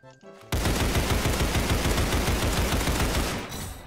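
Rapid sustained automatic fire from an AK rifle in the Roblox game Criminality, a dense loud burst lasting about three seconds before cutting off, with no talk.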